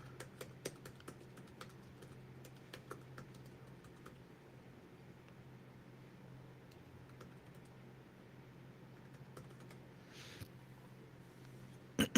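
Someone types on a computer keyboard, a quiet, irregular run of clicks and taps, with bursts and brief pauses spread over several seconds in a calm room and no talking.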